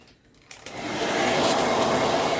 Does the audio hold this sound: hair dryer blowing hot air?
yes